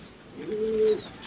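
Pigeon cooing inside a fancier's loft: a single soft, low, sustained coo swells then fades over about half a second, close and clear above a quiet background.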